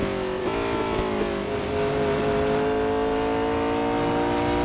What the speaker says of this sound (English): It sounded like the engine sound just kind of, you could tell the RPM kind of dropped.